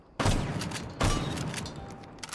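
Super Shorty shotgun fired in Rainbow Six Siege: two loud, close blasts about a second apart, each trailing off into a ringing tail.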